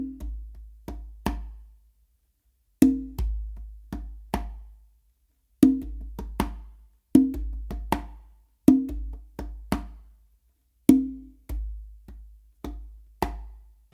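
A modern funk pattern played on a single conga drum: close, dry slaps and deep open tones alternate with soft fingertip taps in a syncopated, repeating groove, with short gaps between phrases and no voice.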